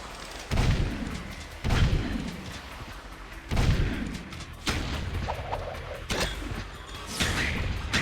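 Gunfire from Jak II blasting enemies, a series of heavy booming shots spaced roughly a second apart, each with a strong low thump and crashing tail over a continuous game backdrop.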